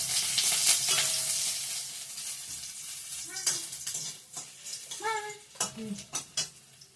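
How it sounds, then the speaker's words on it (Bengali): Bay leaf, onion and five-spice frying in hot oil for a dal tempering, a loud continuous sizzle with spatula scrapes and a few brief voice-like sounds over it. "তেজপাতা, পেঁয়াজ, পাঁচফোড়ন ফোড়নে দিয়ে দিয়েছি"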